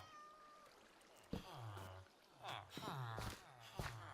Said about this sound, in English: We have, I believe, a cat.